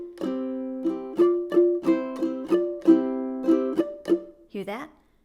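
A ukulele strummed in a steady rhythm while fretting fingers press too hard on the mute, so stray notes keep ringing between the chopped strokes, close and solo.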